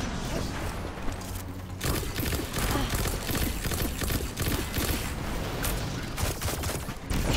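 Sustained assault rifle fire in Destiny 2, a dense run of rapid shots continuing almost unbroken and fairly loud, with brief gaps, mixed with other game effects.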